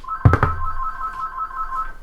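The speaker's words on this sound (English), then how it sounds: "yeah, when the phone rings," A telephone rings in the Sonic Adventure DX video game, a bright electronic two-tone trill that starts after a couple of soft thumps and sustains on its own, moderately loud and close.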